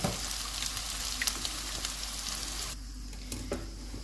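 Chicken gola kabab frying in a pan gives a steady close sizzle that drops to a quieter crackle near the end, with a few faint pops and stirring ticks.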